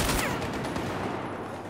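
Desert Eagle pistol shots in a video game, a quick dense burst of loud gunfire blending into one short fusillade.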